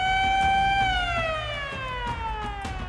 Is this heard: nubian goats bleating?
no